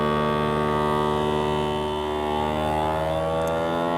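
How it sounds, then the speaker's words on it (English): A FoodSaver V3840 vacuum sealer runs as it vacuum seals a bag of sausages, a steady, close motor hum with a slight dip and recovery in tone. "It will now connect and it will now vacuum seal our sausages."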